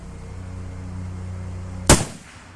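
MAS 49/56 rifle imported by Royal Tiger Imports firing a single loud, sharp gunshot outdoors after a stretch of steady background hum, with a brief decaying tail.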